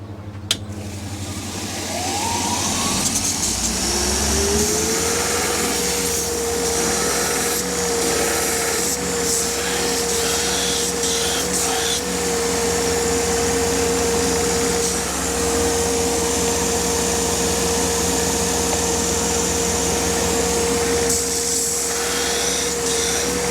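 A modified belt sander thins a knife blade while dust extraction runs, a loud steady motor whine and roar that spins up in the first seconds and then holds constant, with gritty grinding texture layered over the drone.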